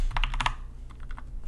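Quick keystrokes on a computer keyboard as a command is typed, a close burst of clicks followed by a few softer, more spaced taps.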